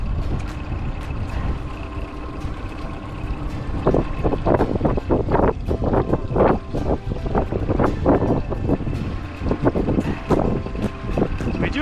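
A trimmed-up boat outboard engine drones steadily in shallow water under wind buffeting and splashing water, with irregular thumps and gusts rising partway through.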